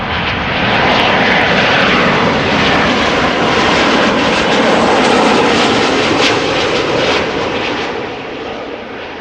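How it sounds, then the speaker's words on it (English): Transavia Boeing 737 jet airliner roaring steadily and loudly close by at Amsterdam Schiphol Airport, a broad continuous engine rumble that holds for several seconds before easing slightly. "A Transavia 737."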